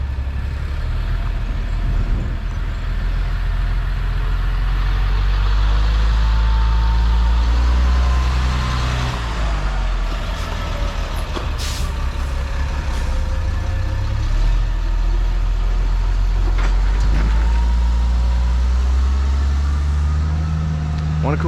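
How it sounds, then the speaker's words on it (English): A loud truck rumbles past on a road outdoors, its low engine roar swelling in the middle and fading, with faint hiss and clatter over steady traffic noise. "I'm gonna wait for this truck to go by as he's a little bit loud."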